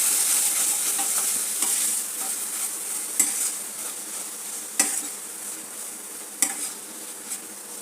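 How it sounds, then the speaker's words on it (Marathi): Onion and coconut paste frying in a pan for mutton curry, a steady close sizzle with a spoon stirring and scraping, a few sharper clinks of the utensil against the pot, and no talking. "हा कांदा आणि खोबऱ्याचं वाटण टाकायचं आहे. याला पण आपल्याला चांगलं परतून घ्यायचं आहे."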